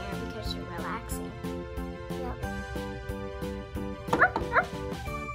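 A voice imitates small toy dogs barking during play with a Barbie 3-in-1 Dream Camper set, giving a few quick high yips near the end over steady background music.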